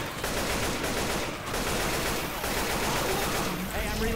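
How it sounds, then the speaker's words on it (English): Rapid tapped bursts of AK rifle fire in the zombie shooter Left 4 Dead 2, dense and continuous over a noisy mix with a brief lull midway. "Tap firing, by the way, is your friend with the AK."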